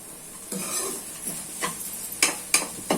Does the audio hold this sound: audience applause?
no